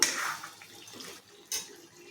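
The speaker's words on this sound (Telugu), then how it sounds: "ఇప్పుడు వాటర్ వేసేస్తున్నాను." Water poured into a simmering curry from a mixer jar holding tomato, a brief close splash of running liquid, pausing, then a second short pour.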